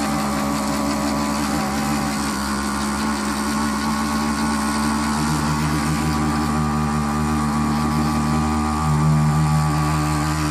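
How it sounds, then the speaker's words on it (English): A Gerard Morin pump runs on its electric motor with a continuous humming drone and mechanical whir, steady and close, rising slightly toward the end. "So let's go ahead and try this pump."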